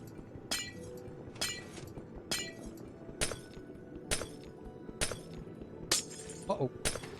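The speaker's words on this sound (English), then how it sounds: "I didn't think the glass would break that easy." Glass blocks breaking in Minecraft, with a series of about eight sharp, bright shattering crashes at a roughly steady pace of about one per second, moderately loud over quiet game background.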